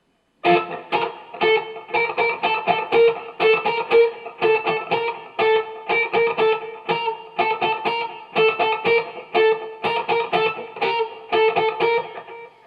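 Electric guitar playing a steady, chugging passage of short, clipped palm-muted notes with distortion, loud and continuous, with no voices.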